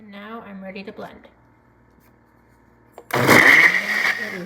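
A voice speaks first, then after a short quiet gap a countertop blender roars on loudly and close, churning frozen strawberries and lemonade in a steady, high whir.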